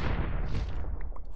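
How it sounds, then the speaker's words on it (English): A loud Minecraft video game explosion fills the whole moment with a dense, deep rumbling roar from start to finish, fading slightly at the tail, with no voices. "Perfect explosions, except this still kind of clips that. Two more explosions."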